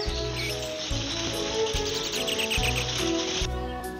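Birds chirp and call in the Amazon rainforest, repeated bright tweets over a dense, steady layer of background sound with no voices.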